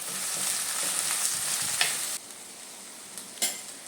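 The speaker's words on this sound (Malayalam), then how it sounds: "ഉപ്പും കൂടെ ഇട്ട് നമുക്ക് വഴറ്റാം." Eggplant sautéing with salt in a pan: a loud, dense sizzle with stirring scrapes for about two seconds, then it drops to a quieter fry with a few sharp clinks of the spatula against the pan.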